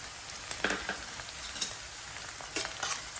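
Chopped green chillies and curry leaves crackle in hot frying oil while cooking chicken fry. The sizzle is steady and fairly quiet, with a few sharper spits and stirring scrapes.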